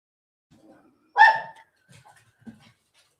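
A dog gives a single loud, sharp bark, followed by a few faint, short whimpering sounds in an otherwise quiet room.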